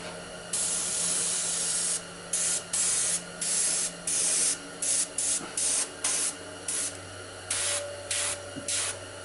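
An airbrush sprays paint onto a tabletop miniature from the Cthulhu: Death May Die board game, giving a close, steady hiss that cuts on and off in short rhythmic bursts as the trigger is worked.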